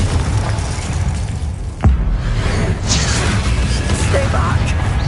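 Booming Confringo spell blasts and whooshes during combat in a Harry Potter Hogwarts video game, with a sharp burst, scattered pops and a rumbling low background. A voice speaks over the action.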